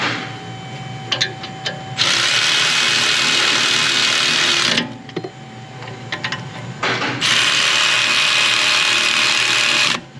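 A ratchet with a 13mm swivel tightening a car brake bolt, close and loud, giving bursts of rapid clicking separated by short quiet gaps and a few sharp metallic taps.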